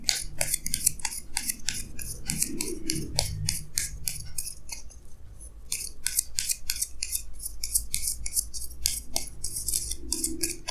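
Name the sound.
tarot cards being placed on a table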